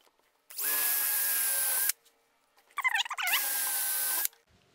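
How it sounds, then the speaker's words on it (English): Two loud bursts of a power drill boring starter holes in oak for a pull-out kitchen cabinet shelf, each lasting over a second, separated by a brief high squeal. "I'll drill a couple of starter holes."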